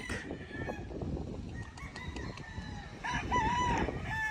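Bull stag roosters crow on a farm, several calls rising over a steady outdoor background, one crow clear and near toward the end.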